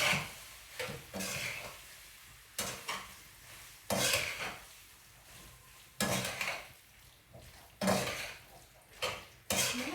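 Pasta being mixed with Kraft Parmesan cheese in a pot, a spoon scraping and knocking against the sides in irregular bursts every second or two, moderately close with quiet gaps between strokes.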